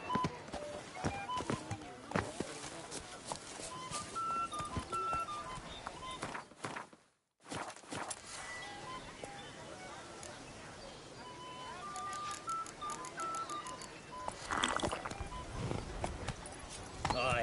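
Roach the horse walks along in The Witcher video game, hooves clip-clopping steadily beneath game music, ambient sounds and a voice, with a brief dropout midway.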